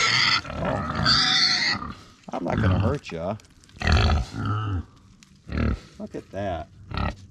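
Pigs on a farm grunt loudly and repeatedly at feeding time, close by, in bursts of snorting and squealing, while a person talks over them.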